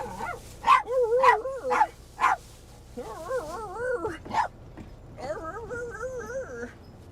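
A dog whines in a series of wavering, high-pitched cries, with short bursts in the first few seconds and longer warbling whimpers later on, loud and close.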